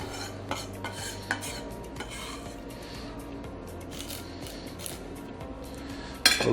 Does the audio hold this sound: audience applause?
no